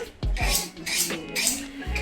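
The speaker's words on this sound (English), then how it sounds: "That's the sound of husband sharpening the knives" Repeated metallic scraping strokes of knives being sharpened, several quick rasping passes at close range, fairly loud against a quiet room.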